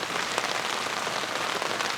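Steady rain patters outdoors onto a backyard where potted fig trees stand in tied-up bags of potting mix, a dense, even hiss with scattered drop taps and no voices.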